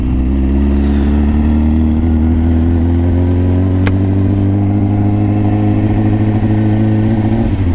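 A cold 2004 Triumph Daytona 600 engine idles with a deep, uneven, slightly rough burble, close and continuous, a single sharp click partway through.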